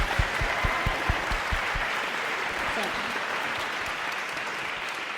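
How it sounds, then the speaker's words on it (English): Audience applause at an environmental panel discussion, a sustained, loud wash of many people clapping for about five seconds, with a few heavier thumps early on before it settles into an even roar. "big round of applause"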